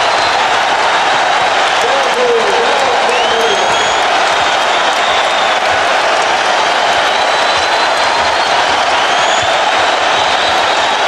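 A basketball arena crowd roars and applauds for a Michael Jordan dunk in a Bulls-Lakers game, a loud sustained cheer with a commentator talking over it.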